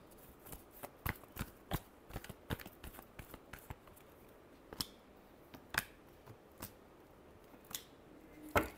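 Tarot cards being shuffled by hand, a series of crisp riffling snaps and flicks in irregular bursts, close and fairly quiet with soft rustling between them.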